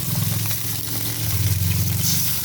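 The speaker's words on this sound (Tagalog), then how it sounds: "Igisa ang munggo." Mung beans sautéing in a pan with garlic, onion and chili give a steady, close sizzle throughout, with a low rumbling hum beneath and no talk.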